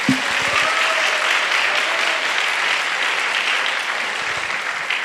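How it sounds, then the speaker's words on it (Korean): A church congregation applauds steadily at a Thanksgiving Sunday service, the dense clapping filling the room at a constant level for about five seconds with no voice over it. "우리 주님께 감사와 영광의 박수 올려드립시다"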